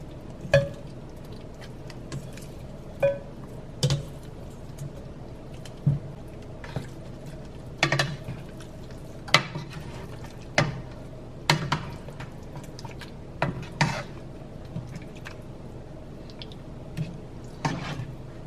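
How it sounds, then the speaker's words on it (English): Thick, creamy chicken mole sauce sweetened with chocolate simmers in a pot, giving sparse bubbling pops and plops spaced a second or two apart over a quiet background. "So I'm gonna let this simmer for about 5 minutes."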